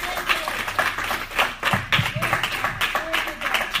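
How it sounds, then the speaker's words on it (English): A church congregation claps their hands for Jesus during a sermon, a lively patter of close claps with uneven rhythmic bursts rather than a smooth roar. "can you just clap your hands for Jesus?"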